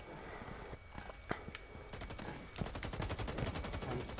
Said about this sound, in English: he's taking pot shots